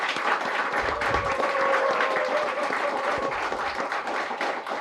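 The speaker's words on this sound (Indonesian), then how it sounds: "Kita tepuk tangan dulu dong" A studio audience claps at moderate volume, a busy patter of many hands that swells and holds before tapering off, with a few louder individual claps standing out.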